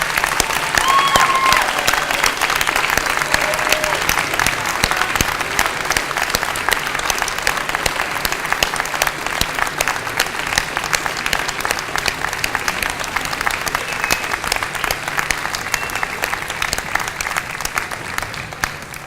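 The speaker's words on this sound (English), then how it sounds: "giving a round of applause to this group of students graduating from the nursing program" Sustained audience applause at a registered nurse pinning ceremony for nursing graduates, a dense, even roar of many hands clapping that continues steadily throughout with little talk.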